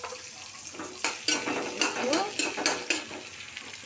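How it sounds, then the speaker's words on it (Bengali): Green chillies and onion stirred and fried in a pan for a yardlong bean dish, a steady low sizzle broken by repeated scraping clinks of a utensil against the pan, with a brief spoken word. "বরবটি ভাজি করার জন্য কাঁচামরিচ আর পেঁয়াজ দিলাম"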